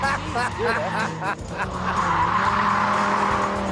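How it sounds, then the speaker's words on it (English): A car is thrown sideways with the handbrake around a cone course, tires squealing and skidding loudly over a revving engine; a voice talks briefly at the start. "I'll need to employ a rally technique to throw it sideways"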